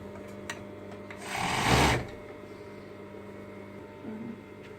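A sewing machine stitches a dress sleeve in one short, close, whirring run of about a second that rises and then stops, over a quiet room hum.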